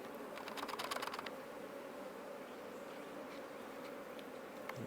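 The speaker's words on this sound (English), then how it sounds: "Got some bees stuck in there." Faint honey bee buzzing drones steadily throughout, with a few brief clicking or rattling bursts near the start as a hive frame is handled; no voices.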